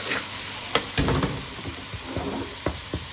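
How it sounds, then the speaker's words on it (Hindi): Garlic sizzles steadily in a hot pan while a utensil scrapes and stirs, with a few sharper clinks against the metal. "अब इसको हम अच्छे तरीके से मिक्स करेंगे जब तक ये ब्राउन ना हो जाए।"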